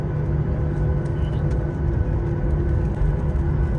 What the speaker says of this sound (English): Currently the plane is in the taxiway